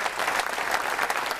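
Audience applause at an evening honoring Nicola Gratteri during the Premio Caccuri literary award ceremony: dense, steady clapping from a seated crowd, sustained and even throughout without a break.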